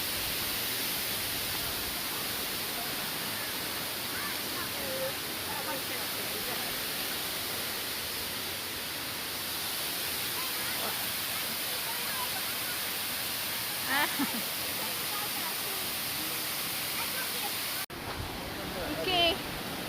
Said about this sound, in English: Okay, we are in the top of the waterfalls.